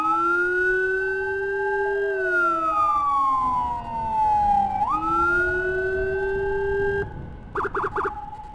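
Ambulance siren sounding while rushing a critically ill patient with breathing and lung trouble to a hospital emergency room in Indonesia, a loud close wailing sweep that slides up and down, ending with a few rapid yelping bursts.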